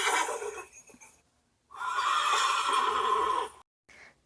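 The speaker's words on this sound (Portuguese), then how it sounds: "Esse é o som do cavalo." A horse neighs in two loud whinnying bursts, the second longer and stronger, followed by a brief short snort-like call at the end; no talking.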